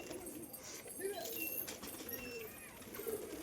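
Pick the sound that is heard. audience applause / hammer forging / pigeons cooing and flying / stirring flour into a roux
pigeons cooing and flying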